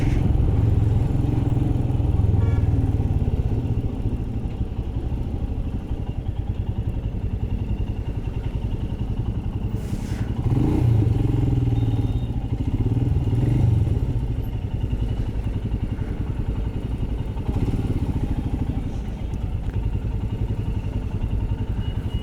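A Royal Enfield Himalayan motorcycle riding on a highway near a toll plaza, its steady engine drone and road rumble loud and continuous with some wind noise and occasional clatter.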